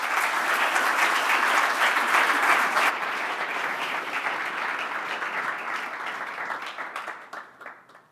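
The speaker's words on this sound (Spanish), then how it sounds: "le damos un fuerte aplauso a David" Audience applause at a business sustainability conference, a dense sustained clapping that fills the room, strongest for the first few seconds and then gradually thinning and tapering off toward the end.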